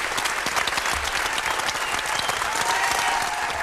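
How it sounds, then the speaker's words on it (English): Steady, dense audience applause from a studio crowd at a hip-hop radio show, sustained and loud throughout with no pauses. "keep the applause going"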